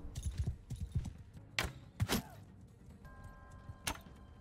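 Horse hoofbeats from the video game Mount and Blade II: Bannerlord, a scattering of irregular clopping thuds mixed with sharp transient clicks and low game rumble, moderately loud with no talking.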